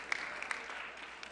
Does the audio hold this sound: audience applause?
yes